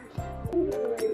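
Pigeon in a Kerala loft giving a few low, soft coos close by, with a brief higher call near the end, otherwise quiet with no talking.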